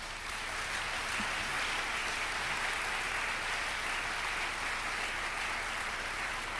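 Audience welcoming guests with applause at a talk on Mesopotamia and the Bible, a dense, even wash of clapping heard from a distance and fairly faint, with no talking.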